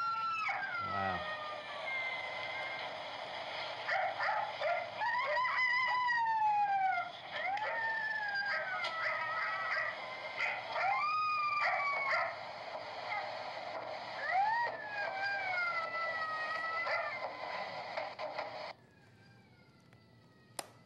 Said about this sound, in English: scary about coyotes is really the sounds they make